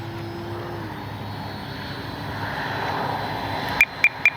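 An FMS Ranger 1220mm RC airplane flies on its morning maiden flight, a steady buzzing propeller drone with a faint whine at moderate distance, ending in a few sharp clicks.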